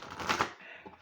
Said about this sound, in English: We gotta shuffle first.